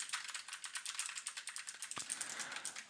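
Rapid clicking keystrokes on a nearby keyboard, with one duller thump partway through, and no voices.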